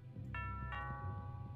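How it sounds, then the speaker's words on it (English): A two-tone electronic doorbell chime rings in the game Thimbleweed Park, ding then dong, clear and sustained over a low hum. "That sounds like the doorbell."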